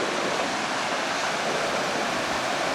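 Continuous rushing of flowing stream water at Lytle Creek, California, a dense, even hiss-and-gurgle close by with no pauses or voices.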